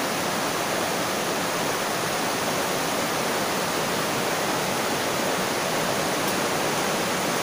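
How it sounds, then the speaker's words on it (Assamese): River water rushing steadily at a picnic spot near Silonijan, a dense continuous broadband roar heard close and loud, unbroken throughout, with no voices. "এইখন নদীখন দেখিছে আপোনালোকে"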